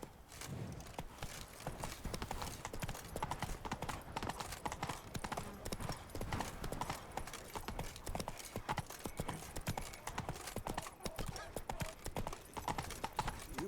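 A horse gallops in The Witcher 3 with rapid, continuous hoofbeats, soft and steady throughout, with game ambience underneath.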